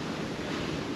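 Rough sea waves and wind wash steadily around a sailboat heading out of the Norfolk channel in gray weather, a dense continuous roar with no talk.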